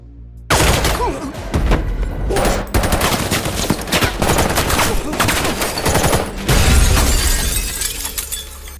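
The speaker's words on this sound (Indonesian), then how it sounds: "Tetapi salah satu petugas di sana menembakkan senjatanya." An officer fires a gun in a crime film scene, giving a sustained loud barrage of rapid gunshots with shattering, breaking impacts and intense action sound effects filling the whole stretch.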